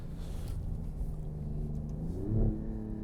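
Alfa Romeo Giulia QV on a back road, steady engine drone heard from inside the car, then a brief rise in revs near the end as it accelerates, moderately loud and without speech.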